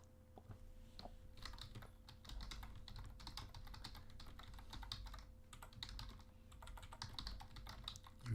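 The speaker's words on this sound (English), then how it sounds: "You hear me typing?" Keys clatter on a computer keyboard in a quiet room, close and soft, with irregular quick bursts of taps running throughout and no talk.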